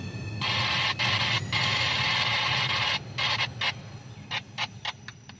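Radio static crackles near a waterfront rail line by an old station, a steady hiss that cuts out abruptly several times, then breaks into short choppy bursts toward the end.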